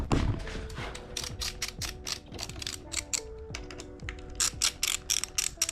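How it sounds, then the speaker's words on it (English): Small mechanical clicks and ratcheting ticks come close up as bolts on a direct-mount bike stem are tightened, arriving in quick irregular bursts with short pauses between them. "over here, you're gonna start tightening these up."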